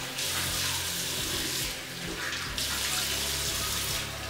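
Water runs steadily from a tap into a sink as cleansing mousse is rinsed off the face, a close continuous hiss with faint splashing, no voices.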